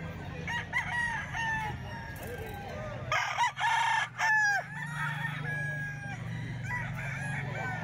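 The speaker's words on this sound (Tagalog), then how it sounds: "Ganda ng manok ko." A Gilmore stag rooster crows clearly nearby, with several drawn-out crows and clucks over a low background hum and faint voices.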